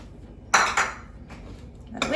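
A whisk knocks against a bowl in a few quick clinking bursts while olive oil and lemon juice are beaten into a dressing, set against quiet room sound.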